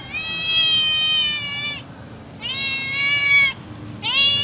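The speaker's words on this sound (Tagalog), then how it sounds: "nakita ko tong pusa na to" An abandoned cat meows three times, long drawn-out harmonic cries close to the listener with short pauses between, alone in a quiet setting.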